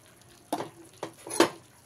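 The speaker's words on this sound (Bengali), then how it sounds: "এবারে এর মধ্যে আমি 3টে মিডিয়াম সাইজের পেঁয়াজ কুচি করে নিয়েছি, দিয়ে দিলাম" Chopped onions, three medium ones, tipped into a pan of frying chicken for a dhaba-style chicken masala, giving a few short sizzling bursts and scrapes at close range with quiet gaps between.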